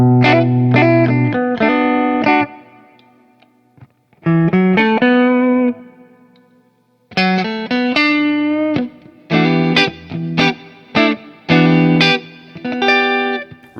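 Telecaster electric guitar with a split-coil pickup tone, picked in bright chordal bursts and arpeggiated phrases with pauses between, loud and close, with light effects and reverb and no talk.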